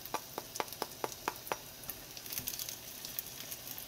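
Rice cake and sausage skewers frying in hot oil for Korean street-food tteok-kkochi, a steady close sizzle with a run of crisp popping crackles early on, then a softer bubbling hiss.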